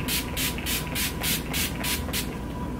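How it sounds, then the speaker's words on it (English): Urban Decay makeup setting spray is pumped in a quick series of about eight rhythmic hissing bursts, close and fairly loud, with no talking. "I'm going to go in with my Urban Decay setting spray."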